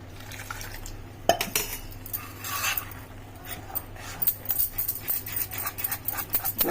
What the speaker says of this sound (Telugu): ఇప్పుడు ఇది మనం దోశ పిండి లాగా కలుపుకోవాలి